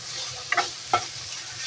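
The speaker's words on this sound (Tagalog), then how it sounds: "Lagay na natin ang ating kanina, sibuyas at saka onion, garlic at bawang." Onion and garlic frying in a pan are stirred, with two short scraping stirs over a soft background sizzle, close and fairly quiet.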